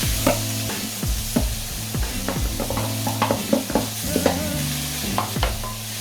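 A spoon repeatedly scrapes and knocks through carrots and onions frying in olive oil for a vegan bolognese, giving rhythmic stirring clacks over a steady sizzle, close with no talking.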